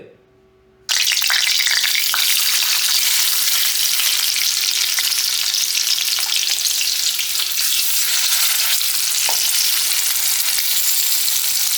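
Masala-coated pieces of a large fish frying in hot oil in a pan, a loud steady sizzle with crackling and spitting that starts abruptly and continues throughout.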